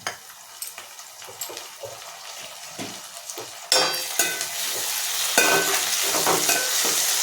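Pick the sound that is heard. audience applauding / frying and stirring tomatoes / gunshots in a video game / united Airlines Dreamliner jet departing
frying and stirring tomatoes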